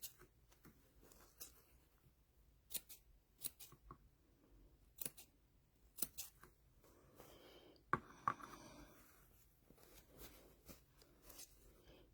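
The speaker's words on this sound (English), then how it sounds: "we're just going to cut straight across and cut this bulk out" Scissors snip repeatedly through fabric while trimming bulk for a KitchenAid mixer bowl cover, close and quiet, with irregular crisp cuts and a brief rustle of cloth.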